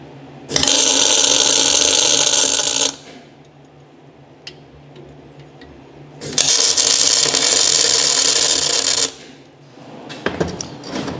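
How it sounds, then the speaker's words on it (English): Two loud bursts of tack welding on a part of a Marcher concrete mixer, each a steady crackling roar lasting a few seconds, separated by a quieter pause with faint clicks and shop noise. "We'll just tack it in there and call it good."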